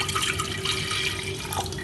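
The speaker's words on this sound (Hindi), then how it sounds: "एबे आम कुकर रे 2 कप पानी देदेबा" Two cups of water poured into a pressure cooker, a steady continuous splashing pour that fills the whole short moment at close range with no talk.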